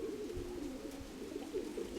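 A pigeon cooing close by, soft repeated low throaty coos in a steady rhythm over quiet background.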